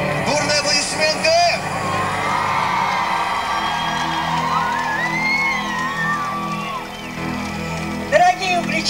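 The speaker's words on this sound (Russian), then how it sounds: "Бурные аплодисменты" A crowd at an outdoor town day celebration in Uglich cheering and whooping with shouts, loud and sustained, with music and an amplified voice in the mix.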